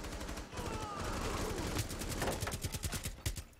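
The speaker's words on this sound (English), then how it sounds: "How did he survive that barrage of gunfire?" Rapid automatic gunfire rattles in a dense, continuous barrage during a video game shootout, heard fairly quietly and without talk over it.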